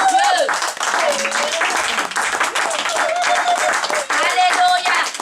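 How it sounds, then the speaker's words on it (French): A church congregation claps and cheers loudly through a worship service, dense steady applause with voices rising in praise and sustained tones over it, continuous and close. "Acclame très fort pour ton Dieu."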